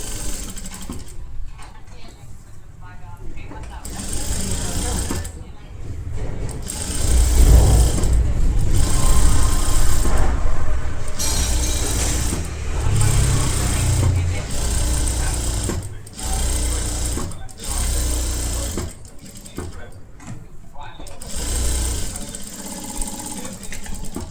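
A sewing machine stitches a pattu langa, a silk skirt, in a series of uneven runs with short pauses between them, steady and fairly close, with a voice speaking quietly at times.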